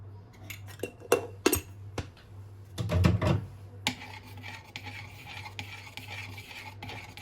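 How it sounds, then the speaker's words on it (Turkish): A spoon stirs coffee in a cup to whip it foamy, making close, steady clinks and scraping swirls with a few sharp taps at first, then a continuous brisk rubbing stir. "Karıştırıyorum. Biraz karıştırdıktan sonra üstten şöyle karıştırıyorum."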